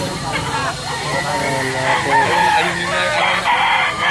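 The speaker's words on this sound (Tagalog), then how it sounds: "Yan, daming manok ha." Many chickens cluck and a rooster crows amid a busy flock in Lipa, Batangas, Philippines, with a continuous noisy background and a faint voice underneath.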